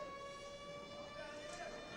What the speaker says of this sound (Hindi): सायरन की आवाज़ें लगातार गूंजती हुई दिखाई दे रही है।